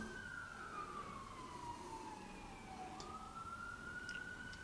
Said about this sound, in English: Sirens outside. Police again.